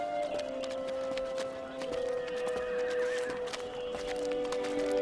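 Horses whinny with long tonal neighs over a steady background of hooves clopping and general outdoor bustle at a horse market.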